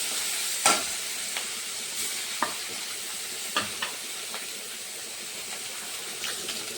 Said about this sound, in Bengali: বাকিগুলো আমি ভেজে ফেলছি এখন এইভাবে